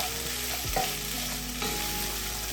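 Two chilies sizzling and frying in a pot as the base for a Kenyan beef stew, a steady close hiss with occasional stirring scrapes and no voices.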